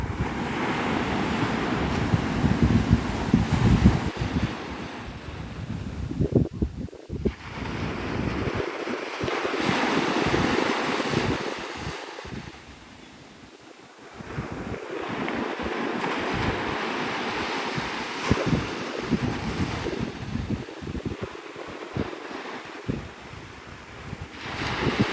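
Surf rolls and breaks steadily along the Gulf shore at Navarre Beach, Florida, with gusty wind buffeting the microphone throughout and a brief lull in the middle.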